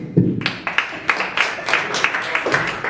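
Audience clapping for the host of a comedy show, a brief scattered burst of applause from a small crowd, close and fairly loud with uneven individual claps over about three seconds.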